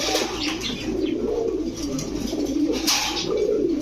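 Racer pigeons coo steadily together in a pigeon shop, a continuous low burbling chorus close by with occasional faint chirps.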